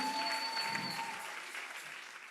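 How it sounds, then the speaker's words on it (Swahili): A church congregation at a long worship service breaks into applause, a wash of clapping that starts full and slowly eases, with a faint tone ringing over it and no clear talk. "Mpigie makofi tena mazuri."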